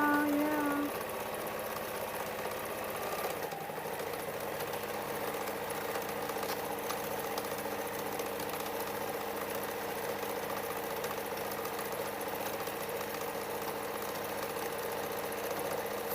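A sewing machine stitching a handmade oven dress towel, running in a steady continuous mechanical hum with fine rapid needle rattle, nearby and unbroken throughout.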